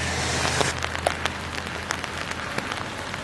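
Steady rain falls through trees where parrots sit waiting it out, a dense even patter with scattered louder drops close by, and no voices.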